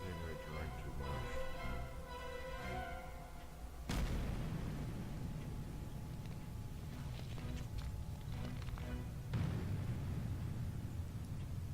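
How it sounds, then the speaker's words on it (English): Deep rumbling explosion booms in the video game Albedo: Eyes from Outer Space, a heavy blast near four seconds and another near nine, over constant low crackling noise. "Explosions. I wonder what caused them."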